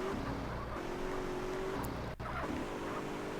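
A car in GTA San Andreas drives at full throttle, its engine a steady droning hum with a brief sharp tick partway through, heard alone without talk.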